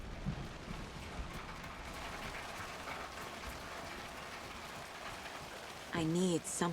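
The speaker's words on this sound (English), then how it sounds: "And it started to rain." Steady rain hisses and patters throughout a scene in the Alan Wake II video game, a dense even wash of drops with faint mechanical clicks beneath, and a voice cuts in briefly near the end.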